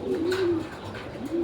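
Racing pigeons coo softly at a truck training session in Santo Tomas, Batangas, a couple of low throaty coos close by over a faint background rumble, very brief.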